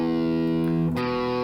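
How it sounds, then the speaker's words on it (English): An electric guitar with distortion switched on plays a sustained riff, thick harmonic chords ringing out and shifting to a new chord near the end, loud and alone with no talk. "If we have our electric guitar, we want to have our distortion tone turned on"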